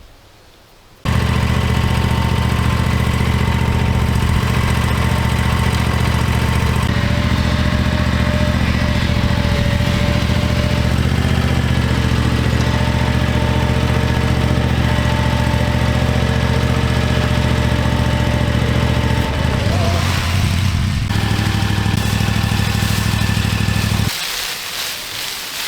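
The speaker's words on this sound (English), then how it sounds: "You get most of your work done when you're shredding at the end and pushing it on there with the mower" Lawn mower engine running steadily while shredding leaves for leaf mold, a loud continuous motor drone that starts abruptly after a second and holds for over twenty seconds before easing slightly near the end.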